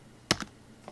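A computer keyboard tapped a few times in quick succession while entering a value in design software; the soft, close clicks come in a short burst against a quiet room.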